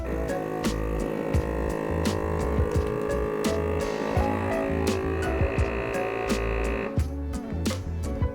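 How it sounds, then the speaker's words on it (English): A vacuum sealer's motor hums steadily for several seconds with faint clicks while sealing beef tenderloin filet in a bag for sous vide, then cuts off abruptly near the end. "So let's get this in the vacuum sealer."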